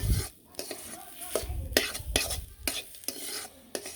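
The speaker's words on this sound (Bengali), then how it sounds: "ভেজে নিলাম ডিমের সাথে মিশিয়ে নিলাম" Mashed spiny gourd is mixed with egg in a pan, giving close scraping stirs and spoon clinks against the metal over a faint sizzle.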